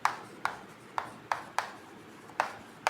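Chalk or marker strokes on a classroom board during a physics lesson on force, seven short sharp taps and scrapes in an irregular rhythm, close and fairly quiet with no talking.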